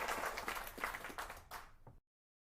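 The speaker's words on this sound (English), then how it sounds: "You get confetti and applause too" Applause sound effect on a livestream, a brief burst of clapping about two seconds long, moderately faint and fading abruptly into silence.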